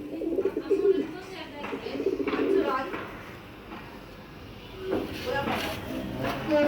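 Pigeons coo in a loft with soft, low, repeated rolling calls, a few close by and steady, with occasional shuffling, while a person talks under and between the cooing.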